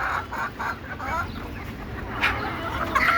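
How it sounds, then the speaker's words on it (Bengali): Desi (native) chickens cluck in short, repeated bursts close by and fairly loud, with the soft murmuring clucks running steadily through the whole stretch and no talk over them. "দেশি মুরগি বিভিন্ন প্রকার বিভিন্ন সাইজের হয়ে থাকে।"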